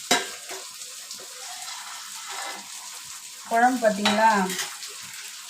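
Mango fish curry bubbles in a clay pot, giving a soft sizzling simmer with faint clinks of a pot or spoon, while a person talks over the cooking.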